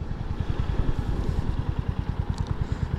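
A Royal Enfield 350cc motorcycle engine thumps at a fast, even low beat, heard close and steady throughout with no talking.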